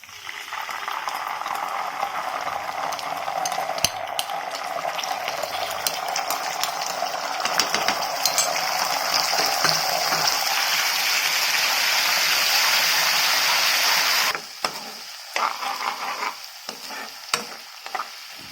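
Steady sizzling of garlic and Schezwan chutney frying in a pan for potatoes, with scraping stirring strokes throughout, close and fairly loud; the sizzle drops off near the end with a few scrapes.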